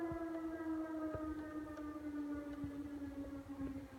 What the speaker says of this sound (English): There's the siren for you guys.